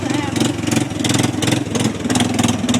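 A Kawasaki four-wheeler ATV idles just after a cold start, its engine note loud, close and steady with a regular throbbing pulse and slight rises in pitch.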